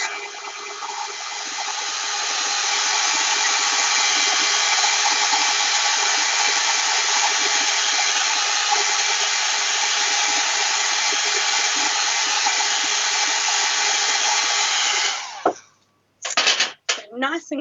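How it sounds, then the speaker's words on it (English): Hair dryer on its cool setting blowing over gel pen ink on acetate: a loud, even whoosh and motor whine held for about fifteen seconds, then cut off, followed by a few brief handling noises. "again just go in there with the hairdryer"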